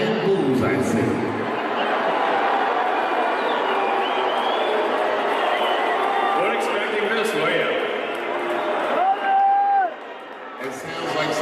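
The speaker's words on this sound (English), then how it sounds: "That is a vicious booing." A large arena audience at a Dave Chappelle show in San Francisco keeps up loud, continuous booing and jeering at Elon Musk on stage, a broad crowd roar with scattered whoops and shouts rising through it.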